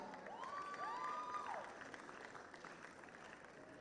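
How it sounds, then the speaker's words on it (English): Delegates at a Model United Nations youth conference in Nigeria applaud a college representative being welcomed, steady moderate clapping with a few whoops and cheers rising near the start, then settling into softer continuous applause. "A round of applause for her."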